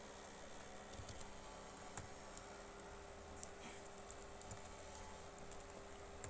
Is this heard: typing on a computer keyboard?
yes